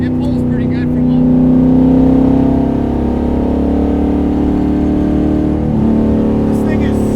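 A 600 HP 1972 Corvette autocross car with a 4.11 rear gear accelerates loudly and continuously, its deep engine roar swelling and steadying at close range, with voices faintly underneath.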